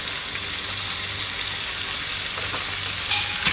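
Beef and spices frying in a pan for a Guyanese beef patty filling, a loud, continuous close sizzle with soft stirring underneath and no talk.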